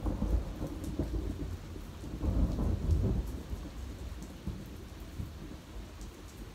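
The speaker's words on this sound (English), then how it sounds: "Gotta love a good old thunder shower." Steady rain hisses while low thunder rumbles and rolls through, with a heavier swell in the middle, the storm sounding fairly distant.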